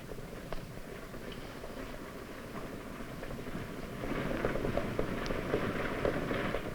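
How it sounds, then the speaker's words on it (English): A stagecoach rolls into an Old West town, rhythmic hoofbeats and rattling wheels growing louder as it draws near, with a rumbling clatter building toward the end. "That sounds like the stage coming in now."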